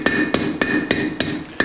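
A steel bottle opener is hammered on an anvil horn with six evenly spaced ringing blows, each a sharp close metallic strike with a short ring, in a steady rhythm without talk.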